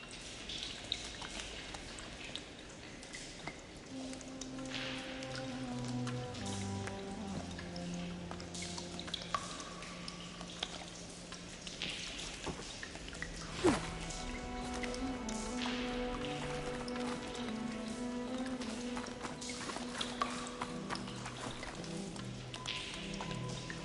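Water drips and trickles inside a facility in Horizon Forbidden West: steady soft droplets over a low flowing wash, with faint tonal machine hums and a single sharper knock midway.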